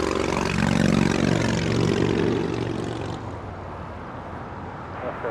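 Aircraft departing from the south side runways at Los Angeles International Airport, a loud sustained engine roar that is strongest early and gradually fades as the plane pulls away, with no voices.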